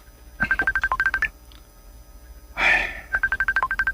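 Cellphone keypad tones in a Cebuano radio drama: two quick runs of rhythmic dialing beeps, separated by a brief rustling burst, heard clearly with no talk over them.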